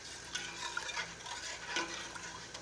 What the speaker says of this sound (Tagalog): nagdagan nyo lang ng tubig para yung sauce